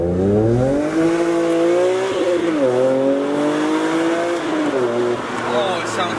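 A BMW M3 E46 fitted with a custom exhaust revs up on its first pull, the engine note climbing and dipping through rising sweeps, loud and close throughout.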